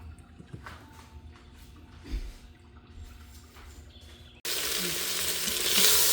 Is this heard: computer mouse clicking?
no